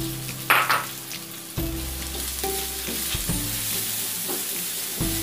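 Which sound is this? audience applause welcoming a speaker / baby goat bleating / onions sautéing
onions sautéing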